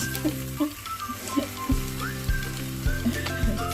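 A pan of eggs, avocado and melting cheese sizzles and crackles steadily, with thumps as it is flipped, under background music.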